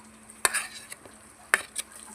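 A spoon clacks twice against a frying pan while green chilies are stirred into browned onion and ginger-garlic paste for village-style khichdi, with a faint steady sizzle between the sharp strikes.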